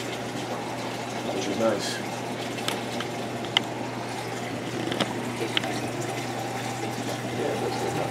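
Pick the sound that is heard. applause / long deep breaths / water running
water running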